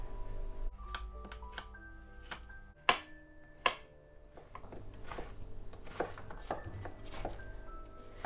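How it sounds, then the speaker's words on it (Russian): A knife chops a medium zucchini into cubes on a board: quiet, close, irregular taps with a couple of sharper strikes, over faint kitchen background and no talk. "1 средний кабачок я нарезаю кубиками."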